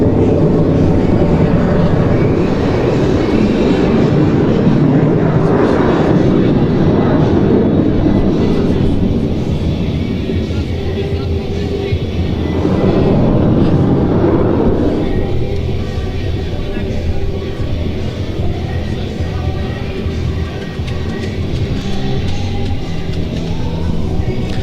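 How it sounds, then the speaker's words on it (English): A Dassault Rafale jet fighter flying slowly at a high angle of attack at an air show, a loud continuous engine roar that swells and fades slightly, with a commentator talking over it. "see the Rafale coming in at slow speed and a high angle of attack"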